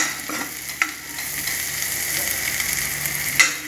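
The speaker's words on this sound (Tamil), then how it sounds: "ஸோ ஆனியன் எல்லாமே நல்லா வதங்கிருக்குங்க." Onions sauté in a hot pan with a steady, close sizzle, broken by a couple of sharp clicks as a spatula stirs them; no voices.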